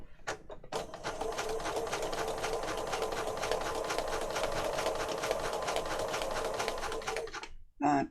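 A sewing machine stitches a zigzag pattern in a fast, steady mechanical rattle that runs for about six seconds before stopping, with faint handling clicks before and after.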